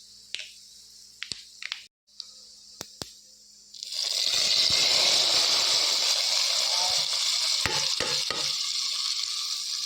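Whole spices for a tempering crackle and sizzle in hot oil, a loud steady frying hiss that swells after a few sharp snaps and clicks, with scattered pops on top.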